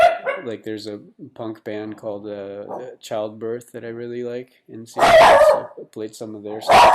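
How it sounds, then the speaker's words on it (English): Someone speaks steadily while a dog gives a loud, sharp burst of barking close by near the end, cutting in over his talk. "Sorry, that's my dog."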